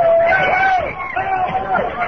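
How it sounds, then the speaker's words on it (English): A noisy crowd of press and fans babbles and shouts at close range, with loud overlapping voices and a few calls standing out from the general hubbub. "Listen to the crowd."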